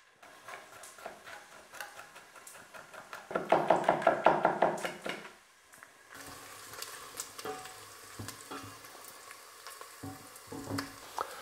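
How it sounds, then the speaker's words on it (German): Chorizo frying in a pot for lentil soup: steady sizzling with a louder burst of crackling partway through, then stirring and clinks of a utensil against the pot. "Damit ist die Chorizo schon mal angebraten"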